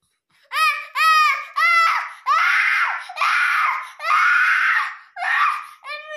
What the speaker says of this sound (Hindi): इतना रो रहा ना ये कि क्या बताएंगे।